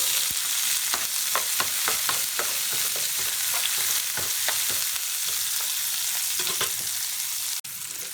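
Onions frying in oil with mustard seeds and urad dal, a steady hiss with repeated scraping stirs of a spatula against the pan, ending in a brief clatter.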